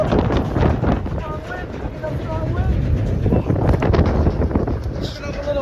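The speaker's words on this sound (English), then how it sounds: "Picking up a little strong wind down here in Seattle." Strong wind buffets the microphone aboard a ferry near Seattle, a constant roaring rush with boat engine rumble beneath, while people talk over it.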